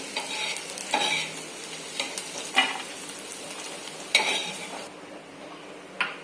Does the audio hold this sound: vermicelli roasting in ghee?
yes